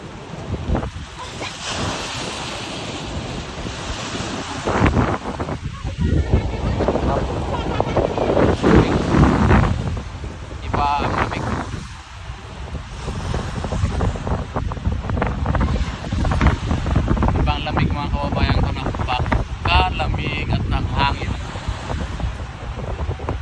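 Strong seashore wind gusts and rumbles over pounding rough waves, a loud, continuous roar with heavy microphone buffeting and brief voices in the background.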